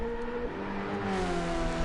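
A 3.5-litre turbo LMP2 race car engine in an IMSA racing video game, a sustained, even droning whine with layered harmonic tones that rise slightly in pitch, heard from outside the car without talk.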